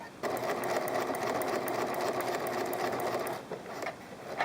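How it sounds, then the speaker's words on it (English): Close, steady rapid chatter of a sewing machine stitching a pet blanket runs almost the whole time, easing briefly near the end. "Continue sewing until you reach the next corner."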